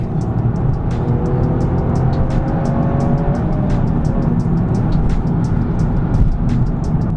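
A Toyota GR Yaris rally car engine drones loudly and continuously as the car drives, with sharp rhythmic clicks or pops punctuating the steady roar.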